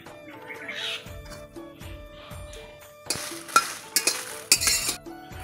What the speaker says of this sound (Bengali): শুকনো কড়াইতে আমি শুকনো লঙ্কাটা ভেজে নেব।